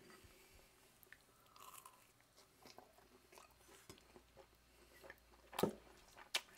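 Someone bites into simple cheese tortillas, with soft, quiet chewing followed by a couple of louder, crisp crunching bites near the end, close to the mouth.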